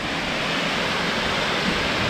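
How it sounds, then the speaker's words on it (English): A roughly 50-foot waterfall at Stony Brook State Park sends up a steady, dense roar of falling water, close and constant, with no voices. "waterfall here. It's probably about, I don't know, 50 feet tall."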